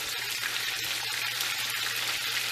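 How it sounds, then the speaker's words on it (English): Steady, close sizzling and crackling of thinned chicken cutlets frying in a hot pan for chicken parmigiana, continuous and even with no voices. "we'll get this all finished frying"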